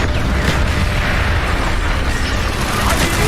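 Mortar fire in Call of Duty Black Ops arctic combat: dense, continuous booming blasts and rumble filling the whole moment, loud and close with no gaps.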